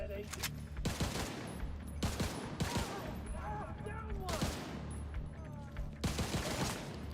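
Gunfire in The Division 2 multiplayer comes in rapid bursts of automatic shots, with sharp repeated cracks recurring through a busy firefight and a voice briefly heard.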